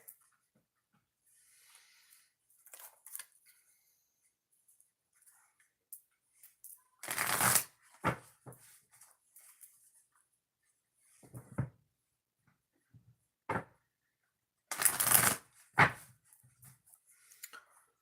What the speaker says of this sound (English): 2 shuffles before we start on the 4th oracle reading